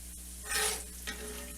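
Onions fry until crispy in hot oil, giving a faint, soft sizzle with a couple of brief stirring swells.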